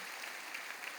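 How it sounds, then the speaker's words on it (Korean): A church congregation claps to welcome guests at a service, a steady patter of many hands at moderate volume, brief and unbroken. "여러분 교회 박수로 환영하시지요."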